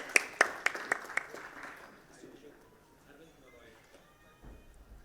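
A conference audience claps for a safety culture panel: a short burst of sharp, separate hand claps near the start that quickly fades, followed by quiet room tone.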